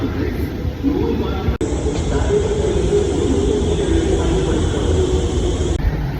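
A steady, loud rumble rides inside a train near Pasir Ris, Singapore, continuous throughout with one brief click, while a person talks over it.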